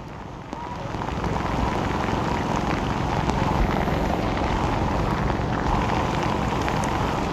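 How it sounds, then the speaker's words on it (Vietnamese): A downpour drums on a Saigon street in Vietnam, producing a thick, unbroken wash of rain noise at constant loudness, close and enveloping, with no talking. "Mưa lớn như này kết hợp với chiều cường thì rất dễ là bị ngập."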